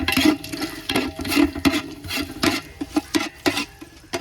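Repeated scraping and clinking of a spoon stirring cinnamon, cardamom, cloves and peppercorns in hot oil in a pot, irregular close strokes with no talking.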